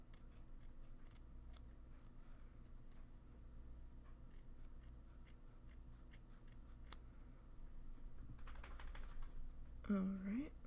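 Scissors snip repeatedly along the edge of wool laid on a canvas, crisp close cuts in an uneven rhythm over a quiet room, with a brief voice near the end.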